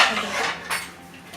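A metal pan stand organizer set down inside a kitchen cabinet, giving a close, bright clatter and a second clink of metal against the shelf within about a second.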